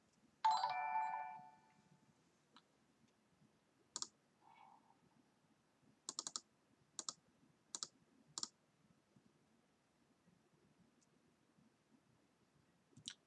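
A computer notification chime sounds during an online Modern Magic: The Gathering league match, a short bright tonal ding near the start, followed by several sparse, faint mouse clicks and taps in a quiet room.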